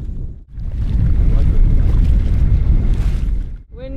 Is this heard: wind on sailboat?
yes